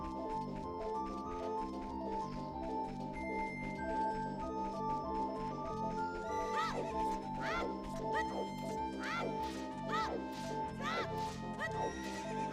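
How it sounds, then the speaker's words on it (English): A horse whinnies repeatedly in quick descending squeals over a dense layer of steady game music and ambient tones, in Ocarina of Time. "the horse sound today is awful"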